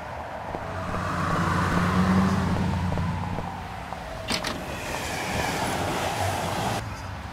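An elevated train rumbles past in the Sam & Max adventure game, a sustained loud rolling clatter of rail cars that swells and fades over several seconds, with sharp metallic clanks partway through.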